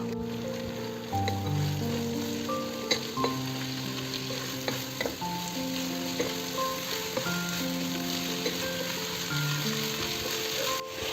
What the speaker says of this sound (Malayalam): 3 വലിയ സവാളയാണ് എടുത്തിരിക്കുന്നത്. അത് സ്ലൈസായിട്ട് കട്ട് ചെയ്ത് ഒന്ന് ലൈറ്റ് ബ്രൗൺ വരെ മൂപ്പിച്ചെടുക്കുക